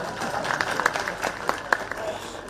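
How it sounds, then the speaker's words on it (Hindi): Crowd applause at a public rally in Dalhousie, a short burst of scattered clapping with distinct sharp claps standing out over a murmuring crowd. "महिलाओं को ताली बजानी चाहिए"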